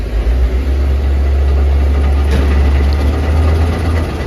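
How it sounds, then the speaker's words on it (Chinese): A semi-trailer truck stuck on a wet, sharp curve revs its engine while a drive wheel spins and slips, a loud, steady low rumble that holds throughout without pause. "加油门的话，右边的那个驱动轮一直在转，一直在空转打滑。"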